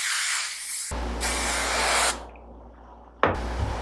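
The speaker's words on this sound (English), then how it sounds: "you want to spray it first and let it set for a few minutes" Hair spray misted onto set curls in two bursts, a long steady hiss of about a second followed by a brief puff, close and fairly loud with no talking.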